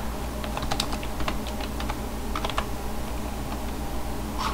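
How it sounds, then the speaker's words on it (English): Someone types a search on a computer keyboard, making irregular close key clicks over a constant background hum, with no speech. "You just type that in the search box, press enter on your keyboard"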